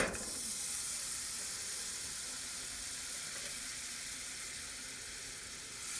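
Butter melting in a pot over medium heat gives a steady, fairly loud broadband sizzle and hiss that runs unbroken through the whole stretch, with no voices.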